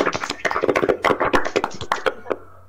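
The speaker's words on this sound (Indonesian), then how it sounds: "Kasih tepuk tangan ya" Brief classroom applause after a student's poem reading, a few pairs of hands clapping quickly and unevenly at close range, thinning out and fading within three seconds.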